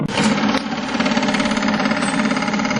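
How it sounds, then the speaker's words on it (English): A homemade apple grinder for cider, with a metal blade cut from a carpenter's square ruler, runs steadily and loudly, a continuous harsh grinding drone throughout with no talking. "we throw the apples in there and they grind against that blade, and all of the apple mush comes out into the bucket"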